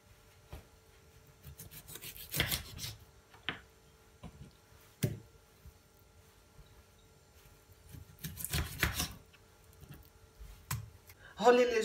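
Raw chicken wings tossed and mixed by hand in a bowl, giving intermittent wet rubbing, squelching and slapping bursts with quiet gaps between, close up, with a faint voice at moments.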